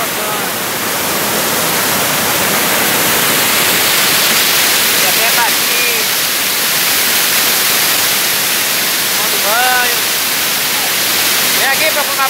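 Water rushes over rocks at the Santana dam in Jaguaribe, Ceará, as a loud, constant, close roar throughout, with faint voices occasionally surfacing beneath it.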